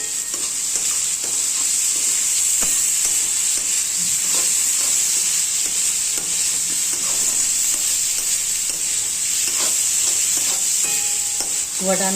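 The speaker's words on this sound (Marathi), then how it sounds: "आता हा बटाटा याच्यामध्ये चांगला आहे ना फ्राय होऊन द्यायचा आहे" Potatoes fry in an oil-filled pan for poha, giving a steady, close sizzle with a bright hiss, broken by occasional light stirring scrapes and taps and no talking.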